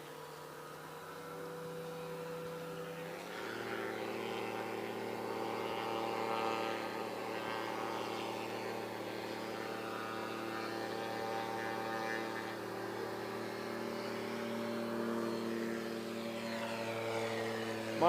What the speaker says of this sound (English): He's got things spool up.